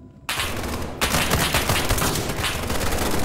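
Rapid automatic gunfire in the SCP 5k video game, a dense sustained burst of shots, loud and close, after a brief quiet start.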